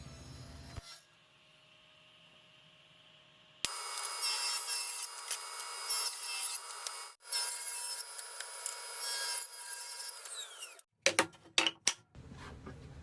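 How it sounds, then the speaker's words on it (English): A table saw rips the rough edge off a wood board, a loud, sustained cutting whine after a quiet start, ending with a few sharp knocks as the board clears. "The squared edge from the jointer and the planer goes up against the fence, and then we are able to rip off the rough edge"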